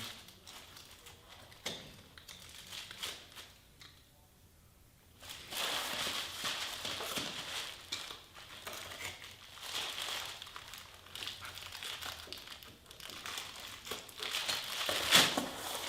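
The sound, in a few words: cutting carpet tiles around stairs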